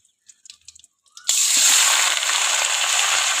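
Chicken pieces drop into a hot pan with cinnamon, cloves and spice powder, bursting into a loud, steady sizzle that holds on after a few faint clinks before it.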